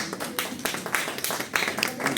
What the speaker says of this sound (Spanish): unas palmas solamente para que no se sientan más que bien